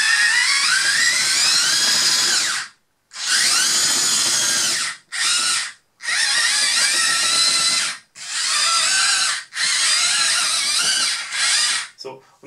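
Small electric motors on a Huina 580 RC excavator model whine in sharp high-pitched bursts, starting and stopping repeatedly with brief silences between runs, close and loud, pitch rising and falling with throttle.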